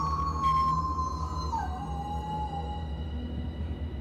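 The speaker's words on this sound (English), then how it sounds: "If you're going to say dog howling, at least make it sound like a dog." A long, steady howl holds one pitch and then dips lower, sounding over a constant low background rumble.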